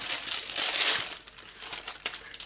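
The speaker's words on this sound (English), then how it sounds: "Trusty old baking paper." Baking paper crinkled and crumpled by hand at a craft table, a close, continuous dry rustle with brief louder crackles, heard alone.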